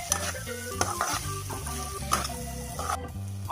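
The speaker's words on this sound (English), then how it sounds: "I'm now going to mix all of this really well." Pork sausages being stirred in a frying pan with honey mustard and Szechuan chutney sauces, a soft sizzle under repeated scraping and clattering strokes of a spoon against the pan, close and fairly quiet.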